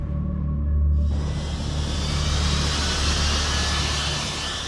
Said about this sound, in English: Britain's latest acquisition, the Sea Harrier.